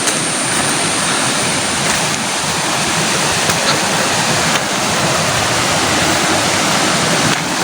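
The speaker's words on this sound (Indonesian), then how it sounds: "itu di sini muara, itu pertemuan kedua sungai" Rushing river water at the confluence of two rivers, the Cimanau and Cisimet, a steady dense broadband roar that stays loud and even throughout with no voices.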